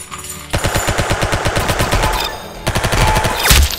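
Rapid automatic gunfire in a mobile shooting game, a loud continuous stream of closely spaced shots with a brief break partway through, heard without speech.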